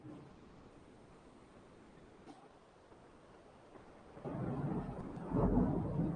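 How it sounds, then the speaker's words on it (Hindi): Thunder rumbles during a storm, a low broadband roll that swells louder in the final two seconds after a quieter stretch of steady background noise. "देखिए बिजली कड़क रही होगी"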